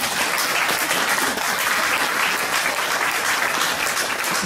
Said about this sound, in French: j'ai envie qu'on applaudisse Marie-Hélène et toute l'équipe pour faire ça